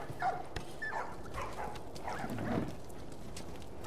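Dogs in The Last of Us give short yips, barks and whimpers, several brief calls scattered over a quiet background, moderately near and fairly soft, with no talking.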